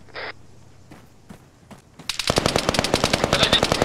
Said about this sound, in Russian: По-моему, стрельба уже какая-то.